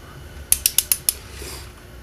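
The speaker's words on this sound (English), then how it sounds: "We'll keep a steady pull on that torque wrench." A torque wrench's ratchet clicks five times in a quick, even burst while a Subaru head gasket bolt is drawn to 51 pounds of torque, close and crisp against a quiet background, then stops.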